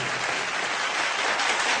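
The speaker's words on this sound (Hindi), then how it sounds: "मैं चाहूंगा एसपी साहब के लिए जोरदार तालियां" Audience applause for a guest at a stage event, a steady dense wash of many hands clapping at an even level throughout, with no voices over it.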